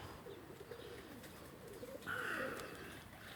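Murzyn breed pigeons coo softly inside a loft, with low rolling coos that swell briefly toward the end. Faint rustling fills the background.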